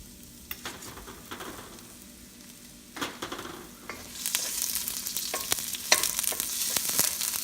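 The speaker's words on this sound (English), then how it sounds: "we're gonna put our onions first." Onions dropped into hot olive oil in a pan, quiet stirring scrapes at first, then a sizzle that swells loud and bright near the end, with scattered clicks of a utensil.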